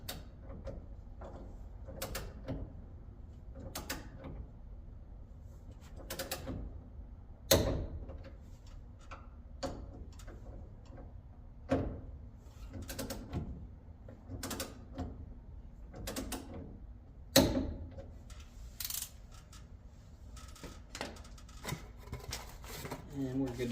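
A torque wrench tightens the Wilwood brake caliper bolts on a 1971 Dodge Dart to 40 foot-pounds. Sharp metallic clicks and ratchet snaps repeat at uneven intervals, close up in a quiet space, with a few louder clacks.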